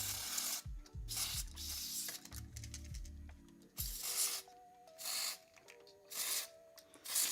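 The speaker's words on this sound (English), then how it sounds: "Let me squirt some contact cleaner on." Electrical contact cleaner squirted into the mechanism of a Sharp VZ-3500, several separate bursts of hissing spray between quieter mechanical clicks and ratcheting, heard up close.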